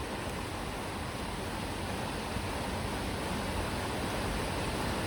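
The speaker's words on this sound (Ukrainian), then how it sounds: "Ось такий водоспад, краєвид." Waterfall on a sunny Sunday at a fishing spot, a steady, dense roar of falling water filling the whole clip without a break.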